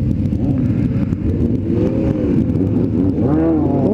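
A motorcycle engine roaring steadily on a rough, bumpy road on the way to a São Roque winery, loud and continuous, with pitch shifts as it accelerates.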